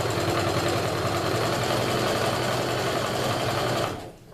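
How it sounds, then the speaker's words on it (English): A sewing machine runs fast and steady, stitching a quilt seam with a dense, even mechanical whir that keeps going for about four seconds and then stops abruptly. "I'm going to go ahead and finish sewing the seam"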